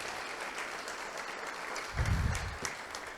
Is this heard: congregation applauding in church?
yes